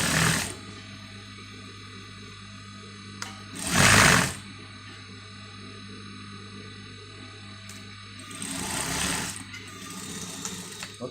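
A sewing machine stitches a princess dart blouse in short bursts of fast, whirring stitching separated by pauses, close up, over a faint steady hum.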